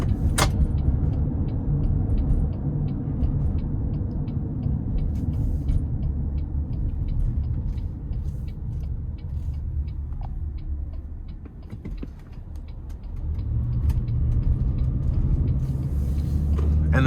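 Cabin of a 2025 Toyota Sienna XSE minivan driving on a smoothing road: steady low road and tire rumble throughout, briefly easing near the end before swelling again, with no talking.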